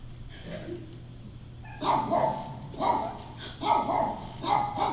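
A dog barks four times in close, loud, evenly spaced yelps after a quiet opening, with a low steady hum underneath.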